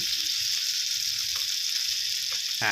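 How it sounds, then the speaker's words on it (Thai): Continuous loud sizzling of chilies stir-frying in hot oil in a pan, close up, with a light scrape near the end. "ใส่น้ำมันไปหน่อยนะครับ แล้วก็ ใส่พริกลงไปผัดนะครับผม"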